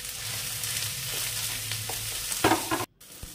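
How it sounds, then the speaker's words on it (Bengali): Grated cauliflower fries in a pan with nigella and ajwain, giving a steady close sizzle with a few stirring scrapes near the end before a brief cutoff. "গ্রেট করা ফুলকপিটা দিয়ে একটু ভালোভাবে ভেজে নেব"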